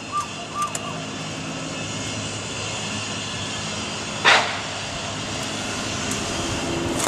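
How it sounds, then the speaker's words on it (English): An airplane passes over a park next door with a steady, droning engine roar that lasts throughout. A few faint short barks sound near the start, and a brief harsh burst comes midway. "So, all I can hear now is bloody planes."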